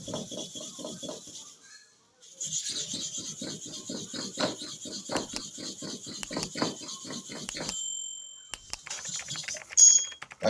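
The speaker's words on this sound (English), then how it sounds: "If you are not a real expert in sharpening of the clipper blade, you cannot get this set of clipper blade right." A stubborn hair clipper blade rasps against a sharpening surface in quick rhythmic strokes, close and steady, with a short pause early on and a few sharper scrapes near the end.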